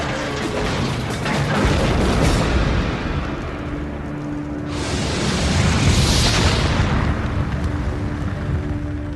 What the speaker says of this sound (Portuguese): E explode em seu paiol, detonando 300 toneladas de munição.